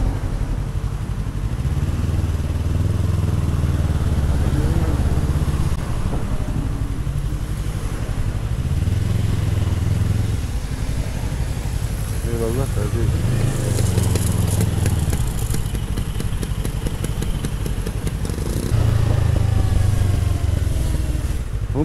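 A 2022 Yamaha MT-03 motorcycle runs steadily nearby, its engine and exhaust droning throughout with a few rises in pitch, and no voices over it.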